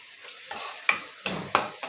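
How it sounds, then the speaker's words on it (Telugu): Onions and green chillies frying in oil in a kadai, a steady sizzle punctuated by three or four sharp scraping strokes of a spatula in quick succession, close up. "ఆనియన్స్ పచ్చిమిర్చి వేసా, బాగా వేగిపోతుంది"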